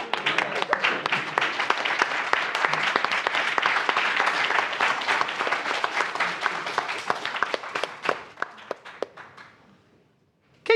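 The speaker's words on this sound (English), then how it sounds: "Keep clapping." A live stage audience at Celebration Japan 2025 claps in a dense, sustained burst of applause that gradually thins into scattered claps and then stops near the end.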